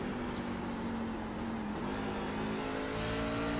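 Simulated sprint car engine in a racing video game at Phoenix Raceway, a steady loud buzzing drone throughout with a pitch dip and recovery midway as the driver downshifts to pull power out of a turn.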